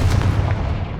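A Confringo fire spell blasting in Hogwarts Legacy, a dense, loud low rumble like a booming explosion that holds steady for about a second.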